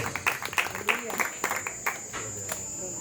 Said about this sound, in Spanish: Aplausos, Señor